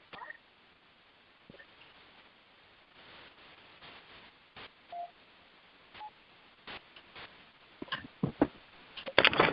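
Telephone dialing tones beep as a caller switches over to a different phone: scattered short tones and clicks over low line hiss, thickening into a denser burst near the end.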